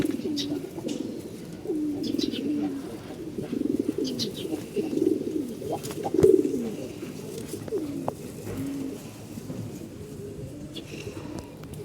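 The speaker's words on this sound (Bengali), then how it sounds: "একটা মাদি কবুতর" Pigeons, including a female, coo in low, throaty, repeated rolls close by, with a few faint chirps and soft knocks scattered throughout.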